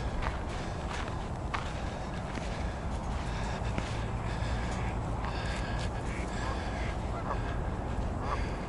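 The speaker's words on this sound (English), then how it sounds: "Yeah, all these geese along the edge here." Geese honk intermittently at a moderate distance along a pond's edge over a steady, dense outdoor background, with scattered calls repeating throughout.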